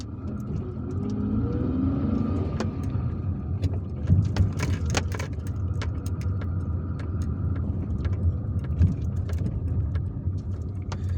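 A car creeps through slow traffic in a market area of Bourouba, Algiers, with a steady low engine and road rumble, scattered clicks and knocks, and distant street noise throughout.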